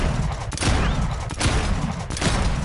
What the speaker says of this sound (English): let's pull out my shotgun for example, and watch this